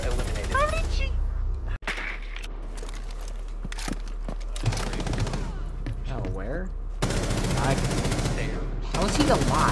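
Rapid gunfire from the Rainbow Six Siege video game, loud bursts of automatic shots with sharp single cracks, mixed with excited players talking over it throughout.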